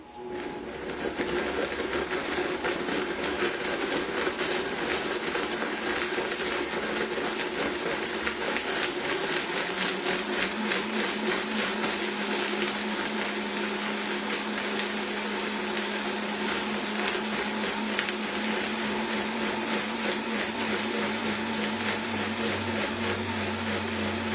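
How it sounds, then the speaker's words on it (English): A high-speed blender running steadily for a long stretch as it purées dates, a loud, continuous whirring motor whose pitch drops partway through as the mixture thickens, with no talking. "I'm going to have to blend this for like a minute because there are dates in there"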